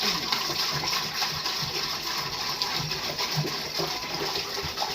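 Ten litres of native cow urine pour steadily into a jeevamrut mixture of cow dung, a continuous splashing gush of liquid, close and even throughout, with no talk.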